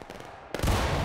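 A massed volley of muskets fired in the War of Rights game, with a sudden loud, heavy crack that rolls on into a sustained, booming roar after a brief stretch of quieter ambience.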